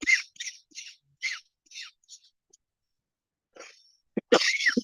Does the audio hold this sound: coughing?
yes